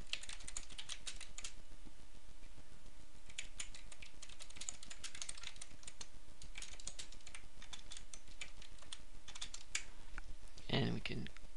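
Typing on a computer keyboard to enter a comment in invoicing software, bursts of quick close key clicks across the whole stretch, with a louder clatter near the end.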